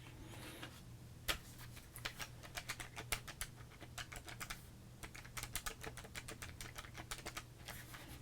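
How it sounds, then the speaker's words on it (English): Calculator buttons are pressed in a quick, uneven series of crisp plastic clicks at close range, coming in bursts with short pauses, over a faint steady low hum. "Calculator's working."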